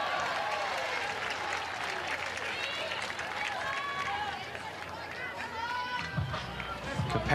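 A sold-out capacity crowd at a college softball game between Washington and Louisiana applauds and cheers in a sustained, distant-sounding roar, with a commentator talking over it.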